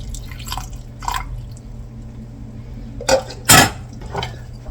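Chicken broth being ladled into canning jars through a funnel makes short liquid pours and drips with glassy clinks and a clatter of utensils, close and intermittent.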